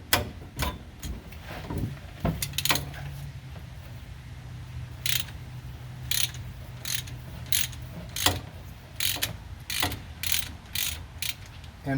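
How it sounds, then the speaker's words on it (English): Half-inch ratchet and socket breaking loose differential cover bolts on a 2001 Ford Ranger 4x4, a run of quick metallic ratchet clicks in short bursts over a steady low hum, close and fairly quiet. "you can just use a regular ratchet and a socket, half-inch socket, to break these loose"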